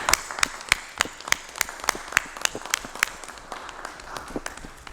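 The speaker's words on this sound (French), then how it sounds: "on va demander une bonne main d'applaudissement de notre conseil" Applause at a municipal council meeting, a small group clapping with several distinct, close, sharp hand claps in an uneven rhythm over a softer patter, steady for five seconds.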